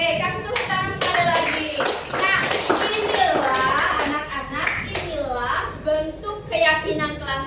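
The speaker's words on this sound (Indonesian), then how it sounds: "kasih tepuk tangan sekali lagi" A classroom of children claps in quick bursts of rhythmic hand claps, close and lively, with a teacher and kids talking and calling out between and over the clapping.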